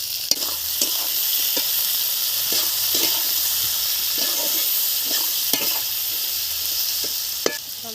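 Onion and turmeric frying in a pan with garden potatoes, a steady close hiss of oil and frying, broken by repeated light stirring scrapes and taps throughout.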